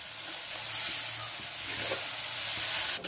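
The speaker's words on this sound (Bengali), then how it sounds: "এবার সরষে বাটাটা দিয়ে দিলাম, ভালো করে নাড়াচাড়া করে নিচ্ছি।" Pabda fish frying with mustard paste while being stirred in a pan, a loud steady sizzle and hiss with faint scraping of the spoon, close up, without talking.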